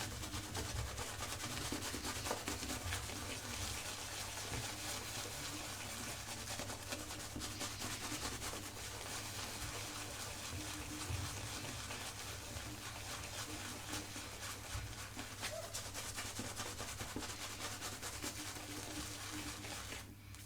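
A synthetic shaving brush loads Dr Jon's "Flowers in the Dark" shaving soap. The bristles swirl against the soap with a continuous, close, wet rubbing and scratching that runs evenly throughout with no talk.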